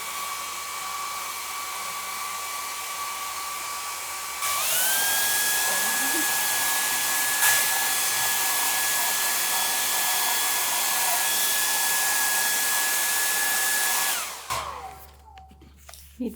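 A hair dryer on its high setting blows onto wet, drippy paint in a sketchbook, switching on with a steady loud whine and roaring airflow that holds for about ten seconds before cutting off abruptly.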